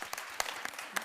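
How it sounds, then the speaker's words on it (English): Brief burst of audience applause at an annual conference, dense scattered claps filling the room at moderate volume with no voices. "Let's give them a cheer"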